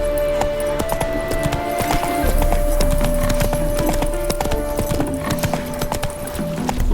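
Roach, Geralt's horse in The Witcher 3 video game, gallops with loud, steady clip-clop hoofbeats that run without a break, alongside a sustained musical tone.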